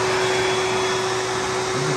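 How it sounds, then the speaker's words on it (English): An AIIYME dog dryer runs on its heat setting, a loud, steady blower roar with a constant whine, close and continuous with no pauses. "The dryer works like this. It goes hard too."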